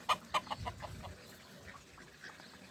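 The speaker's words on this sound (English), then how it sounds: "Yes, I hear you, Mr. Turkey" A turkey calls near a hen with her chicks, a few sharp gobbling bursts at the start followed by fainter clucking and bird sounds in a quiet farmyard setting.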